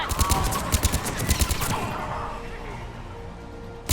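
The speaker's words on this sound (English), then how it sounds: "Enemy on the mounted gun!" A mounted machine gun fires in Mass Effect 3, a rapid rattling burst of closely spaced shots for about two seconds before fading into background battle noise, with a final shot at the end.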